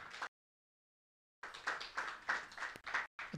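Audience clapping at a school awards ceremony for a student who excelled in national exams: a brief burst, then silence, followed by a steady patter of hand claps from a modest crowd, fairly quiet and somewhat distant.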